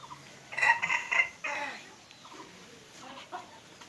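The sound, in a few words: free-roaming village chickens clucking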